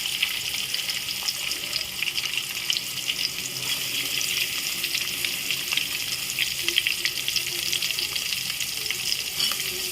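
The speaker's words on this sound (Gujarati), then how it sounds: "તો આપણી ડુંગળી તેલમાં શેકાવા દેવાની છે" Onions frying in oil in a pan, a close, steady crackling sizzle with dense popping throughout, heard alone without any talking.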